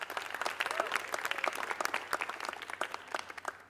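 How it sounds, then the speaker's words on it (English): A crowd at a youth TEDx event gives a round of applause, dense overlapping clapping at moderate distance that thins gradually toward the end. "I think that deserves another round of applause"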